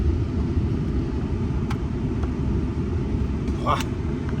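A flood-damaged Lexus sits running in reverse gear, its steady low engine rumble close and constant, with a couple of faint clicks and a short squeak near the end.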